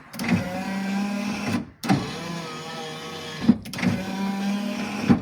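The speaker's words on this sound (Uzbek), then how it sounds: "Bugun Nexia 2mizni oynalarini tezlashtirib berganmiz." Power windows of a Nexia 2 car fitted with a speed-up modification, whirring electric motor running in three long strokes, each ending in a sharp clunk before the next pass begins, close and loud.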